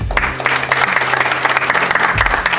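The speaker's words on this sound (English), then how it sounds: "Can we have a round of applause for Front End?" Continuous loud applause from a forum audience in Kenya for a sponsor, many hands clapping steadily and densely for the whole stretch, with a low rumble beneath.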